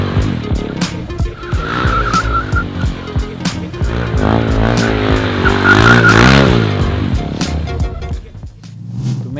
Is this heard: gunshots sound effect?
no